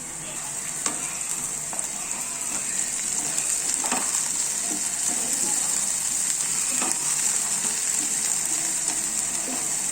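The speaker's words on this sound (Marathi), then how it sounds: "आपण आता कापलेली हिरवी मिरची आणि कांद्याची पात घालू।" Chopped green chilies and spring onions frying with onion and garlic in a pan for Schezwan rice, a constant bright sizzle with spatula stirring clicks and scrapes, close and steady throughout.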